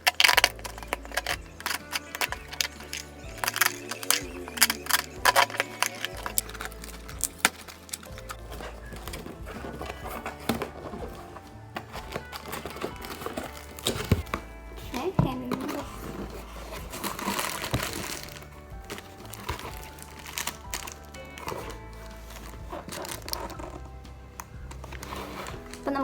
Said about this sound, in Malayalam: അപ്പം നമുക്ക് ഒരുമിച്ച് അൺബോക്സ് ചെയ്ത് നോക്കാം